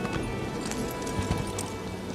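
Horse hooves clip-clop in the Elder Scrolls Online video game, a quiet, steady run of soft footfalls over a low ambient background, with no talk.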